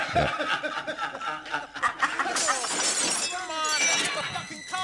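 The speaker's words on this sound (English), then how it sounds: "Car window is being smashed." Glass shatters as a car window is smashed in a played recording, with crunching breakage and scattered debris, while people talk and laugh over it.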